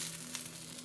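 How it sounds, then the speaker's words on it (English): Chicken souvlaki skewers sizzle steadily in a hot pan, a soft continuous frying hiss with faint crackles and no voices. "And you could hear that sizzle,"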